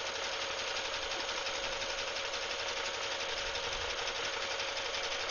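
A sewing machine stitches an applique with a fast, steady mechanical rattle and hum, continuous and close, a constant rapid chatter without pauses.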